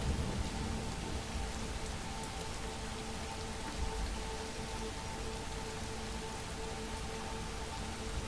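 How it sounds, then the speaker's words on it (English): Heavy rain pours steadily and loudly onto surfaces, a dense continuous wash of drops with no gaps and no voices. "This rain is something else, isn't it?"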